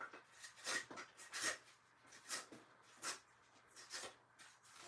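A plastic scraper rubs and scrapes debris from the grooves of a press, giving short raspy strokes in an irregular rhythm of about a dozen scrapes, close and fairly quiet with no talking.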